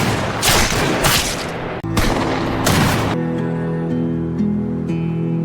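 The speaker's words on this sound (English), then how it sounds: "and a gunfight broke out." Gunfight with rapid bursts of gunfire from a shootout against a sniper, loud dense volleys in two clusters, then a sustained droning tone with scattered faint pops.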